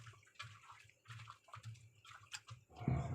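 Water runs out during home cooking, with intermittent gurgling and splashing in short bursts that swell into a louder rush near the end, close by and with no voices.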